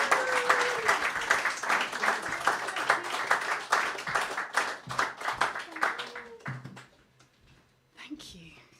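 Audience applause in a Margate venue welcoming a musician, dense clapping that is fairly close and steady before thinning out near the end, with a short burst returning at the close.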